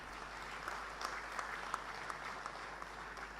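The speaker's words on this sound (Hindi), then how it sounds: "उनके लिए भी जोरदार तालियां बनती हैं।" Audience applause at a sports awards ceremony in Bhopal, a soft, distant hall full of clapping held steady for a few seconds with faint individual claps standing out.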